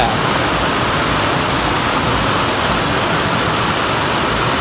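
Water runs steadily into a gutter, a dense continuous rushing wash at constant loudness with no break.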